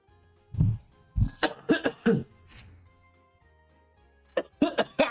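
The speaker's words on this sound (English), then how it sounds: "It's like the more I drink, the more I cough." Close-up coughing from someone drinking bourbon whiskey comes in two rough opening bursts, then a quick run of four or five hacking coughs, a quiet pause, and another cluster of coughs.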